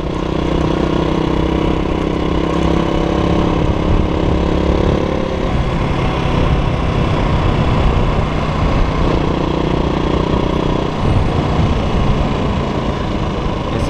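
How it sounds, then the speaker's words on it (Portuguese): A motorcycle engine runs steadily and loud on the BR-401 highway near Boa Vista, Roraima, a continuous mid-pitched rumble that holds constant for the whole stretch with no voices over it. "Barulho aí da moto aí, pessoal,"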